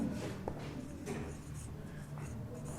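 Pen scratching across paper while an accounting entry for inter-transport costs is written out, a steady soft scraping with a few quick strokes, close and fairly quiet.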